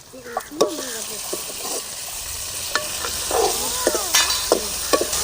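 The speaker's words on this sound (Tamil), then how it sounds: "தக்காளி பழம் நல்லா வணங்கணும் பச்சை வாசம் போகிற அளவுக்கு வணங்கணும்" Tomatoes cooking with browned onions and asafoetida in a pan make a loud, bright sizzle, with scraping stir strokes and a few squeaky utensil sounds near the start.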